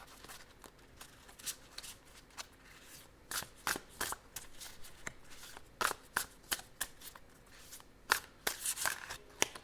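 Tarot cards being shuffled close by, a run of crisp flicking and riffling taps at an uneven pace, with no talking.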